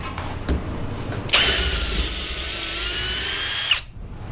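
Milwaukee M18 Fuel cordless drill boring into a 2x4 with a 3/8 inch Shockwave Titanium bit, a brief lower whir giving way to a loud, steady high-pitched spin for about two and a half seconds before stopping.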